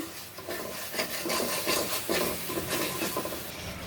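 Spice paste for chicken curry stirred and fried in a pan, a steady scraping and rubbing of the spoon under continuous sizzling, close and fairly loud with no talk.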